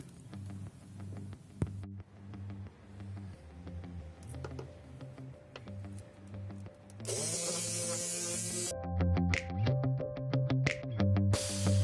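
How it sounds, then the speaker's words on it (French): An electric mouse sander works a wooden board being prepared for pyrography outdoors, with a faint motor whine that swells into a brief harsher buzzing rasp partway through before settling again. "Je vous ai montré le ponçage avec la cale à poncer manuelle ainsi que avec la ponceuse électrique de type mouse"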